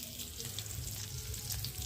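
A steady, close sizzle of boiled potatoes frying in oil, even and continuous for a brief moment.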